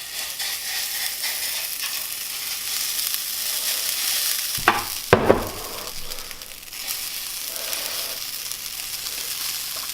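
Pumpkin pancake batter fries in a hot, spray-greased pan, giving a steady bright sizzle with a brief louder burst of crackling partway through before settling back to an even hiss.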